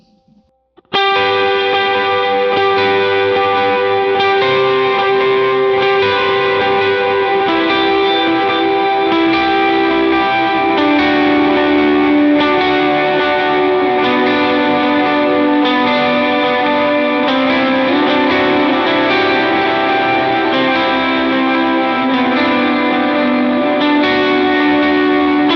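Electric lead guitar plays the chorus of a song through distortion, chorus and echo effects, a dense sustained wall of notes that kicks in after a short pause and carries on loud and unbroken.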